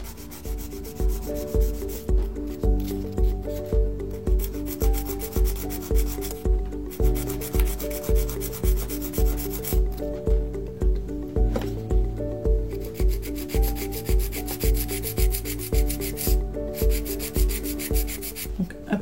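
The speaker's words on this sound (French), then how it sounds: "après avoir limé, poncé les côtés" Steady rhythmic rubbing of a nail file sanding the sides of a nail extension, a close back-and-forth rasp repeating about every half second throughout, with no talk.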